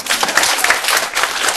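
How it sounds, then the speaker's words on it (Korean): Audience applause during a 2012 New Year special lecture on growing through innovation: a dense burst of clapping from a crowd, loud and steady throughout, with no voices over it. "박수 한번"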